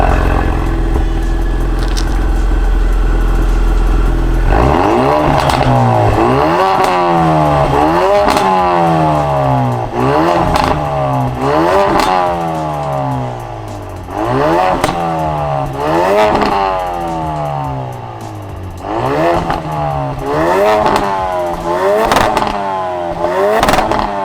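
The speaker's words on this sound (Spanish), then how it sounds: "vamos a escuchar qué tal suena este Focus RS MK3" A 2015 Ford Focus RS Mk3 idles, then accelerates hard through repeated gear changes, each pull rising in a sweeping engine note before shifting back down, loud and close with no talk.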